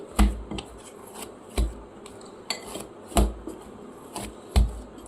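Bhatura dough is kneaded by hand, with regular soft thumps and slaps landing roughly every second, close and fairly loud, and quieter rubbing in between.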